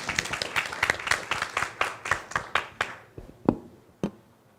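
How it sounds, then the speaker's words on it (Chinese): Small audience at a medical conference claps to welcome a speaker, a sparse round of distinct handclaps that thins out into a few scattered final claps. "热烈的掌声再欢迎一下"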